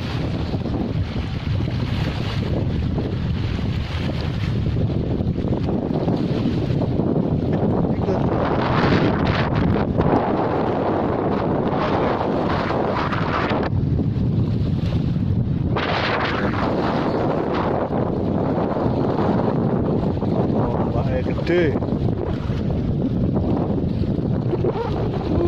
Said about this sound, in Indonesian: Ombaknya guys besar.